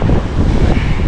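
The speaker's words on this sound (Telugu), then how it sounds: "ఇవన్నీ వాటర్ చూసారో, అదే వచ్చి గట్టిగా కొట్టేస్తున్నాయి వాటర్." Heavy sea waves surge and crash against coastal rocks on the Vizag shore, a dense, continuous roar of churning water with strong wind buffeting the microphone throughout.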